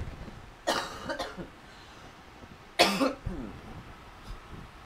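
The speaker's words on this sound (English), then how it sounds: "I am so sorry if I have to cough." Two separate coughs from a person with bronchitis, close and fairly loud, spaced about two seconds apart, with quiet room tone in between.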